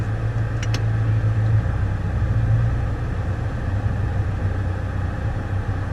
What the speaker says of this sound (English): just take a short drive home, and you can sort of see me watch the sort of drive the car